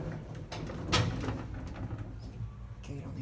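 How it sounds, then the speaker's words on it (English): The gate of an antique Otis freight elevator slides shut with one sharp metallic clank, amid low rattling and faint room noise before and after. "Alright, we'll close the elevator."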